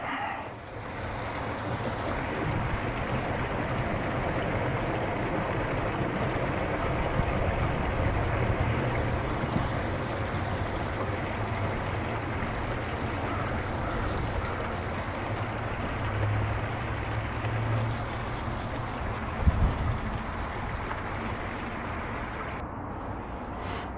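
Gray water drains from an RV kitchen tank at an RV park, a continuous, moderately faint rushing flow that holds steady for over twenty seconds, with one brief knock near the end before it tails off.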